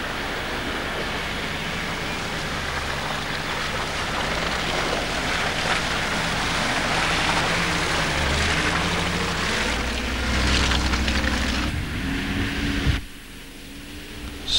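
A 4x4 vehicle drives off-road in ruts, its engine droning and rising in pitch under steady rumbling and rushing noise, then dropping away abruptly near the end.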